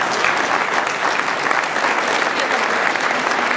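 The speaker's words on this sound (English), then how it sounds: "if you want to clap for the senator, go right ahead" A town hall crowd in Reno applauds Senator John Ensign at a health care meeting, a dense, steady wash of many hands clapping that holds evenly loud for the whole stretch without letting up.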